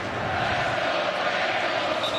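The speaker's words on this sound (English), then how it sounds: "Listen to this crowd chanting, "Let's go Bengals."" A large stadium crowd roars and chants for the Bengals during an AFC Wild Card NFL playoff against the Ravens in Cincinnati, a loud, dense, unbroken wash of voices.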